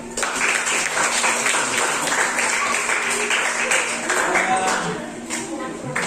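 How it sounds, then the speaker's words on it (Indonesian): Applause from a classroom audience after a student presentation, dense steady clapping filling the room for several seconds before gradually thinning out, with a faint steady hum underneath. "Oke, tepuk tangan buat Akhil."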